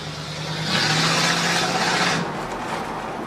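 A 1975 Oldsmobile Cutlass Supreme Hurst Olds with a stock 305 engine driving, a steady road rumble that swells as the engine pulls harder for about a second and a half, then settles back.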